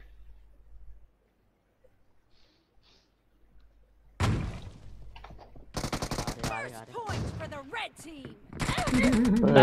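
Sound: gunfire in a video game

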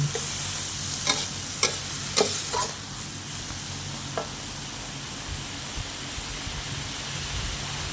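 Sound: stir-frying tofu with soy sauce and oyster sauce

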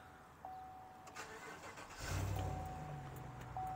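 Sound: 2016 Chevrolet Silverado LT Z71 pickup truck engine starting

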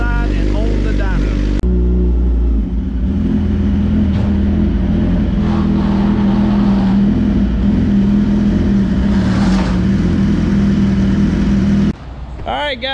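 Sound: Suzuki GSX-R 1000 motorcycle engine warming up

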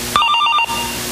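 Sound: telephone ringing

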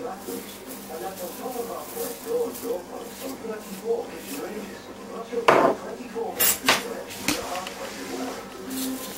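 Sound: stirring chicken and mushroom soup in a pot

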